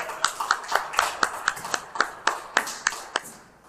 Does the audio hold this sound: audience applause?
yes